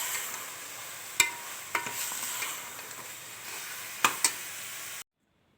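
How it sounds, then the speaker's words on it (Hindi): Minced meat with capsicum sizzling steadily in a pan as it is stirred, a constant frying hiss broken by a few sharp spatula scrapes and clicks, close and without talk. "कीमा हमारा पक रहा है"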